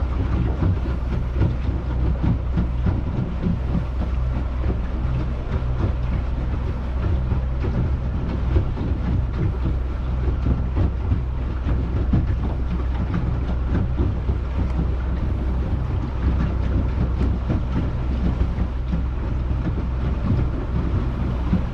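A houseboat cruising on the Murray River in rough patches, a loud continuous low engine rumble mixed with wind buffeting and water noise, steady and close throughout.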